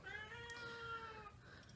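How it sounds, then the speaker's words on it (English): A cat meows to be let in, one drawn-out plaintive call lasting just over a second, faint and somewhat distant, with no speech. "The cat wants in and he's not, I'm not letting him in."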